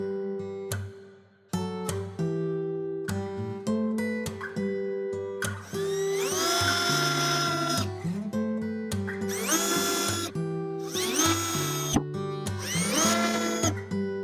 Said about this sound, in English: we're going to put some screws in the pre-drilled pilot holes